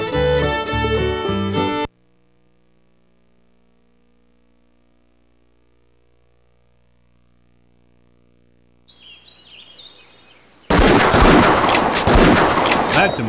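Gunfire in the Buck Fever hunting video game, set in New Mexico: a loud burst breaks in near the end after music and a long quiet stretch with faint bird chirps.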